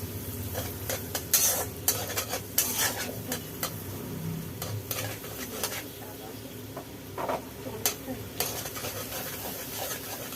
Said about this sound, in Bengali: বাটারটা একটু গালিয়ে নিতে হবে, এমনি বলে যাবে গরমে